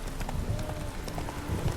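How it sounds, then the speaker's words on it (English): Hoofbeats from a horse in The Witcher 3 clop in a quick, close rhythm for a moment, with a faint whinny-like tone mixed in. "Spooking my horse."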